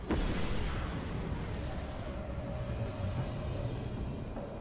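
A loud, sustained rumbling roar of explosions in the PS4 video game Destiny that starts with a sharp burst and keeps rolling, with a faint engine-like hum underneath.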